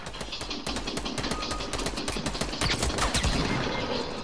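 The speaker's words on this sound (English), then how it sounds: "I'm just doing damage to people from afar with an assault rifle" Rapid assault rifle fire in a video game, dense bursts of shots crackling continuously for several seconds at steady volume, no speech.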